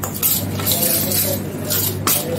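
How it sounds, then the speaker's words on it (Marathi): Spice powder with chilli powder being stirred together by hand for a traditional raw mango pickle, giving soft scraping and clinking of a spoon against a dish under a steady low background hum. "आता तो सर्व मसाला एकजीव करते।"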